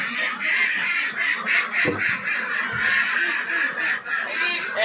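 Ducks on a small duck farm raising about two hundred birds quack in a dense, continuous chorus, loud and close, with overlapping harsh calls and a couple of deeper thumps.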